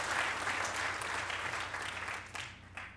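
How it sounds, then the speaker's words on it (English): A roomful of people applauds at a city council reorganization meeting in Linden, steady clapping that fades out toward the end. "Let's give him an applause anyway"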